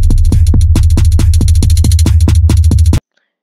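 A drum beat programmed in Splice Beats Maker plays alone: punchy kicks, snappy hits and crisp hi-hats in a steady loop, loud and close, then cutting off abruptly into silence.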